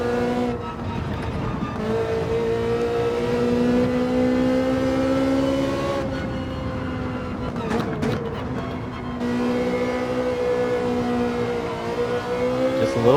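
A Ferrari GT4 race car's engine in Gran Turismo 7 holds a steady high-rpm drone at part throttle, with its pitch rising and dipping gently through corners and a brief sharper blip midway, loud and close.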